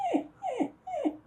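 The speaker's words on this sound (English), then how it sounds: "And my dog agrees with you." A dog whimpers three times in close succession, each a short descending whine, fairly near and moderately loud with no other sounds around it.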